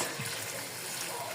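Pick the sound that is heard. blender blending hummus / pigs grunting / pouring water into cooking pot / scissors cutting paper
pouring water into cooking pot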